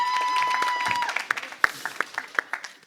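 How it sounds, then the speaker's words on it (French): Studio audience applause on a French television show, starting thin under a held tone and then becoming a short run of separate, sharp claps that grow sparser toward the end. "On les applaudit!"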